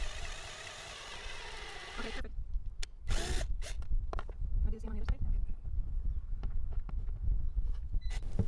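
A power drill drives a screw in a short burst and strips it, followed by scattered clicks and clatter, faint and close, with quiet talk.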